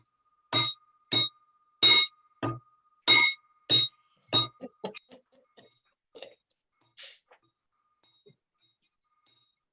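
A hand bell rung at a Rotary Club meeting: about eight bright, resonant strikes in a quick, even rhythm, then a handful of softer, scattered dings trailing off into quiet.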